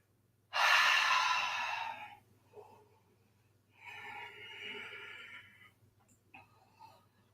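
Long breaths during a yoga forward fold: a loud, breathy exhale, then a softer second breath, heard close up over a low steady hum.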